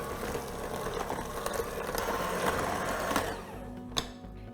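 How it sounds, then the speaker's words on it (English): Electric mixer whirring steadily through cheesecake batter thinned with peach juice and milk for a peaches and cream cake, a continuous close motor hum with a faint clink near the end. "Go ahead and mix that in."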